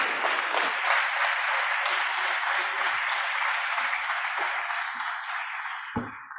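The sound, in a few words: audience applause for Mayor Bonnie Crombie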